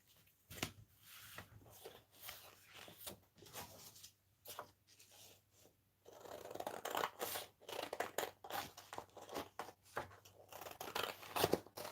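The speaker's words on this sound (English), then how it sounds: "Still using these crappy scissors." Cheap, poor-quality scissors snipping through paper nearby, a long series of crisp clipped cuts in uneven bursts, getting quicker and denser toward the end.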